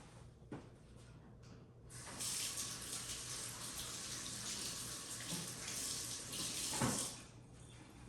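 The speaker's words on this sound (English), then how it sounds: "I'm going to wash my hands." Tap water running in a kitchen sink for handwashing, a steady near gush of splashing water that starts after a few soft clicks and cuts off near the end.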